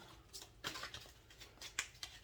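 Tarot cards are shuffled by hand, giving a series of quiet, irregular papery flicks and snaps close to the microphone, the last few strokes slightly louder.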